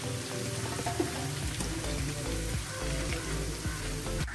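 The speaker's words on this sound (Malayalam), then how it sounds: "വീണ്ടും നന്നായി എണ്ണ തിളച്ചതിന് ശേഷമാണ് അടുത്ത കായ നമ്മൾക്ക് ചെത്തിടാൻ പാടുള്ളൂ" Raw banana slices fry in hot oil for chips, giving a continuous close sizzle and bubbling crackle at a moderate level with no talking.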